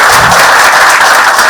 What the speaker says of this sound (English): Please join me in giving a huge round of applause for Ms. Margi Shah.